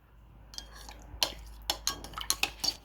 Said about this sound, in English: I'm going to give that a really vigorous stir